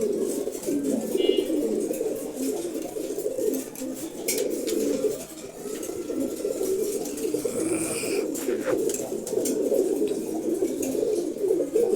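Several pigeons coo continuously in a loft where birds are kept resting apart from their mates, a dense, low, overlapping murmur that fills the whole span, with faint higher chirps now and then.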